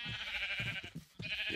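Minecraft sheep bleating in short, nasal, wavering cries, two close bleats separated by a brief pause, fairly clear against the game's background.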